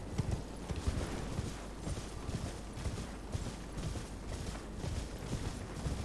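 Donkey hooves clip-clopping in the video game Elden Ring, heard as a steady, close, rhythmic series of soft hoof clops lasting several seconds with faint creaking and no talk.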